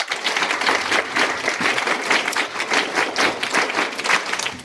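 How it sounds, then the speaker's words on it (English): A primary school audience claps together, a lively continuous patter of many hands close by, with little talk. "let's clap a hand for our Father"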